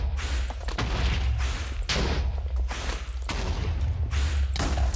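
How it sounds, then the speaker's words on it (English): TNT explosions in the Minecraft modpack Project Ozone 2 go off in quick succession, about six heavy booms roughly every second, each with a thudding low end and a noisy decaying tail, loud and close, no talk. "Start firing TNT, thank you. Come on, more TNT please."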